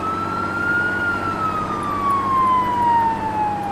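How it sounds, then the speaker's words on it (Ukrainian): A fire engine siren wails steadily and loudly in a single long, slowly falling tone over a constant engine rumble, with no voices. "Точно, вімкнемо сирену."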